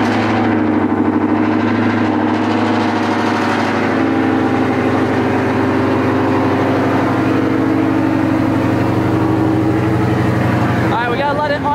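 A modified 700hp Ford Mustang GT V8 runs loud and close, with a steady, deep engine drone and a rough, lumpy tone throughout.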